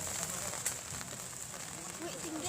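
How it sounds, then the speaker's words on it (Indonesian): Heavy rain pours steadily over an outdoor football tournament in Pariaman, West Sumatra, a dense continuous hiss with faint voices underneath. "Hujan semakin deras."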